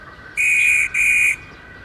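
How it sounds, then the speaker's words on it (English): A railway guard blows two sharp, shrill whistle blasts in quick succession, loud and close, the second slightly shorter, then quiet. "the guard blew his whistle"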